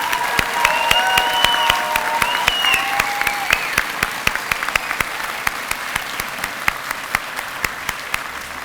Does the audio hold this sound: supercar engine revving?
no